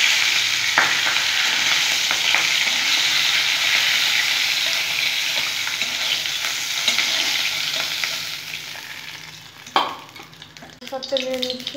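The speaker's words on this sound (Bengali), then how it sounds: "সুন্দর করে ভেজে নেব বন্ধুরা।" Hilsa fish heads fry in hot oil, a loud, dense, continuous sizzle heard close with occasional scrapes and taps, easing off toward the end before a sharp clink and a brief flare of crackling.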